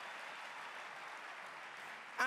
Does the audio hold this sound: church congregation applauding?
yes